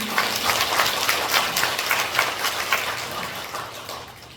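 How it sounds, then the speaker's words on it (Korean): A seated audience at a Korean neighborhood Moa Town redevelopment briefing in Nangok-dong applauds, a moderate, fairly steady patter of many hands that gradually thins and fades toward the end. "박수 한번 부탁드립니다"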